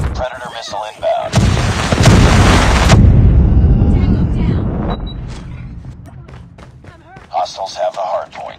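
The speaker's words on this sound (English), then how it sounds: "Predator missile inbound." A predator missile strikes in a first-person shooter match with a loud, close blast and a long rumbling roar that fades out, while game announcer voices speak before and after.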